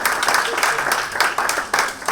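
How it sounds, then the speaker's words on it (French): A theatre audience claps steadily for performers introduced on stage before a film screening and round-table, a dense, moderately loud patter with a faint voice underneath. "Carole Blanchard, Virginie Perret, vous pouvez applaudir, hein."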